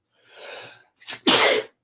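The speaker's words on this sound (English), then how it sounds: "that was a big sneeze" A single loud sneeze, preceded by a breathy inhale and a sharp catch of breath, close and alone with no talking.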